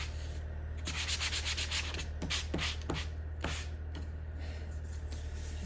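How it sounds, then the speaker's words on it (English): A sanding block rubbed flat over small unsanded wooden flowers for a round wood sign, giving steady close scratchy strokes in an even rhythm under a constant low hum. "I'm just gonna run the sanding block flat over them."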